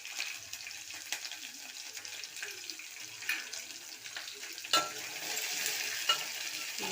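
Onion and green chillies fry and get stirred in a pan while semiya upma is made, giving a steady, moderate sizzle with scraping stir strokes and occasional louder clinks, no talking.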